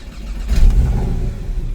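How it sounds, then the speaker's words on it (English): A 2017 Porsche Cayman 718 with vacuum leaks and a faulty boost control solenoid gives one short, loud engine rev that swells up and then settles, heard up close with no talking. "So every single time you rev the car up"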